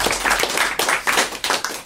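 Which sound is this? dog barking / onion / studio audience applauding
studio audience applauding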